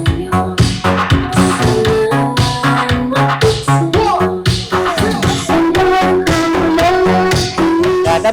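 Music plays loudly through a budget-friendly pro sound system with a subwoofer and power amplifier, giving full, punchy beats and dense instrumental layers throughout.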